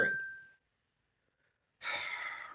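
A phone notification chimes once, a clear bright ding that rings and fades quickly, followed by silence and then a breathy exhale.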